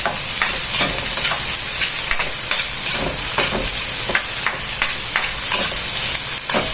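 Onion and ginger sizzle in a hot pan while being stirred for tinolang manok chicken soup, a loud close hiss with repeated scraping and tossing strokes in an uneven rhythm.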